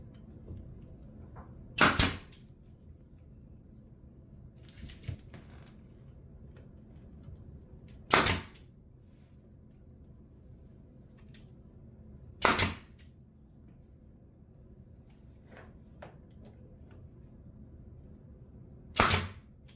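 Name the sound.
brad nailer with compressor shooting nails into trim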